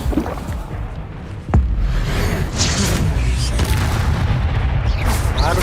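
A Confringo explosive spell blast in Hogwarts Legacy goes off as one sharp, loud boom partway through, under a dense, constant bed of game noise.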